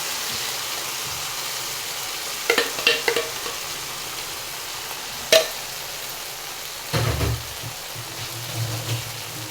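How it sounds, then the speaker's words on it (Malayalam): Jackfruit stirred in hot ghee for a sweet payasam sizzles steadily, with clusters of spoon scrapes and clacks against the pan and a sharp knock partway through. "നമുക്ക് ചക്കയിനെ ഇളക്കാം"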